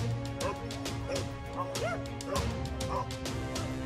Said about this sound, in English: These two dogs are bullying the lizard together.